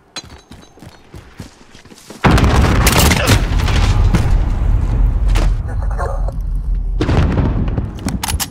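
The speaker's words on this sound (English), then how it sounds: "Throwing grenade." A grenade blasts in Call of Duty Modern Warfare multiplayer, a sudden loud boom after quieter footsteps and gunfire, followed by sustained rumbling and further shots.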